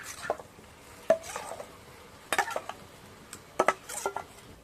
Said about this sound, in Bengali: এবার আমি চাল আর ডালের যে পেস্টটা করে রেখেছিলাম সেটা ঢেলে দেবো